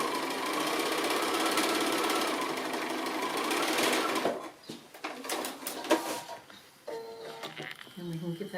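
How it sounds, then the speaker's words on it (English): A sewing machine stitches the sides of a quilt block, running in a loud, steady whir for about four seconds, then stopping, leaving only scattered clicks and handling noises. "So I'm just sewing on the last of the sides, either the top or the bottom, one of the edges."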